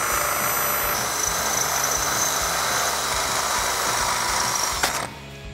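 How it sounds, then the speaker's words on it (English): A power drill with a 3/8 inch bit bores a hole during Jeep Wrangler JK suspension work, a steady close whine and grinding rumble running nearly the whole time before cutting off with a brief clack at the end. "we're just going to step this up to a 3/8 inch drill bit"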